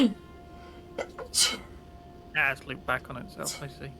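A single sharp sneeze bursts out close by during a Factorio gaming session, followed by a brief pause and then a person talking.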